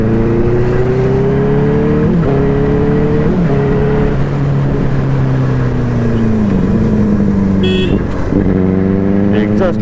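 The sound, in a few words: motorcycle exhaust note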